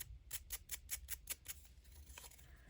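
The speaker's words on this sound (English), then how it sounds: "let's fold it in half." Kraft cardstock paper folded in half, a quiet run of seven crisp, evenly spaced crinkling creases followed by fainter rustles and a light scrape, close up with no talking.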